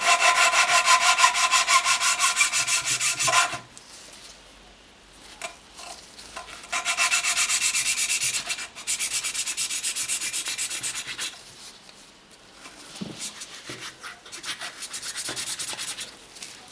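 Abrasive grinding during a Nissan Silvia car restoration comes in loud, close, steady passes, cutting off for a few seconds between bursts, with fainter scraping and handling noises in the gaps and no talk.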